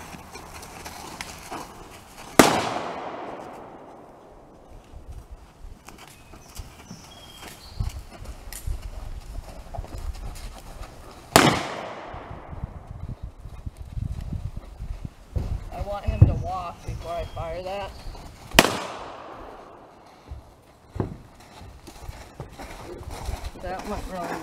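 Three sharp gunshots ring out, several seconds apart, near a young horse during gun-breaking training, each crack decaying quickly while hooves clip-clop and someone talks in between.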